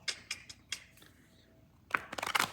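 A deck of oracle cards being shuffled at close range, with soft quick riffles and taps in short bursts, a pause, then a denser flurry at the end.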